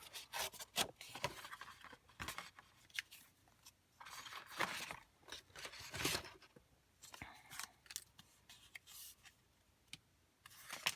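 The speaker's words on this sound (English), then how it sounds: "So I'm just going to pick a side, rip a little bit off." Purple paper torn by hand in short ripping and rubbing bursts, close and fairly quiet, with pauses between tears while making Halloween artist trading cards.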